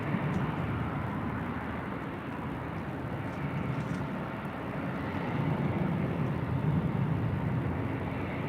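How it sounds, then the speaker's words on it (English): Distant jet engine roar of an Avelo Airlines Boeing 737-800 taking off from LAX, a broad steady rumble that slowly swells and fades. "This is Avelo Airlines 8480 taking off there on the south side to Detroit. It's a 737-800."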